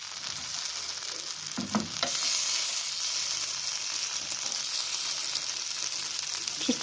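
Mixed vegetable paddu cook in a pan over a low flame, giving a soft, continuous sizzle and light frying crackle with a few brief stirring scrapes.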